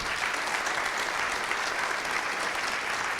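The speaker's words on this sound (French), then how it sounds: "On peut les applaudir, je pense." A roomful of attendees at an e-business round table applauds the panel speakers, an even, dense and fairly loud stretch of continuous clapping with no voices over it.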